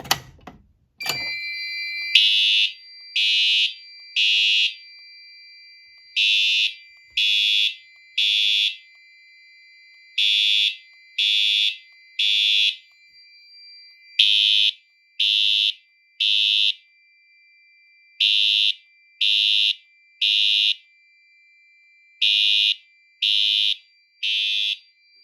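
A Fire-Lite MS-5UD fire alarm system, set off from a Pyrotronics single-action pull station, blares in a repeating pattern of three shrill beeps, each set followed by a short pause, loud and steady for a long stretch.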